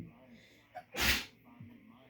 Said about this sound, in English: We got sneezes going on.